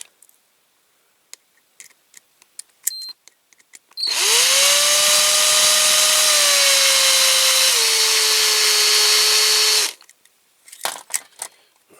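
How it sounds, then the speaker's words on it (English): A power drill with a large bit whirs loudly and steadily for about six seconds, its pitch dipping slightly under load, with small clicks and handling noises before and after. "Right, I'll put the bigger drill bit in again"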